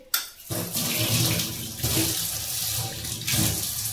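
Tap water runs steadily, splashing onto steel utensils in a sink, close and loud, with slight changes as the stream shifts.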